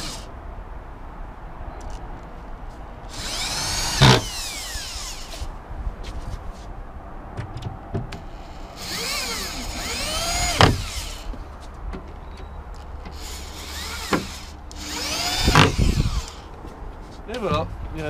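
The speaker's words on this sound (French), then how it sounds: "on a mis un plus gros forêt pour percer le fond, pour pouvoir passer le câble chauffant" A power drill with a large bit bores through the back panel of a homemade wooden rack in several separate bursts, each rising and falling in pitch, with quieter handling noise and speech between them.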